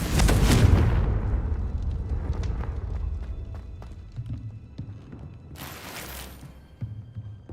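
A Confringo blasting spell explodes in Hogwarts Legacy, a loud broadband burst at the start that decays into rumbling debris, followed by a second bright hissing flare a few seconds later.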